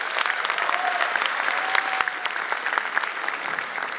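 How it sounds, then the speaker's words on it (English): Audience applause at a DevFest 2022 developer conference, a steady dense roar of many hands clapping throughout, close and continuous with a few sharper individual claps standing out. "Give a round of applause for Rahat Indori, please."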